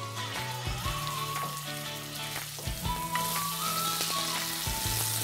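Meat browning in olive oil and butter in a frying pan, giving a steady, close sizzle that runs the whole time with a faint tonal hum underneath.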